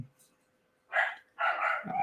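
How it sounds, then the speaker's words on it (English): A puppy gives two short, close barks after a quiet pause, the second burst longer and trailing off. "sorry for my puppy"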